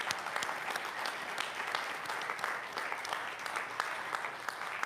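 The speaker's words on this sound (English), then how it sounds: "Let's give them a round of applause." A crowd claps in a dense, steady round of applause that holds at an even level from start to finish, with no voices over it.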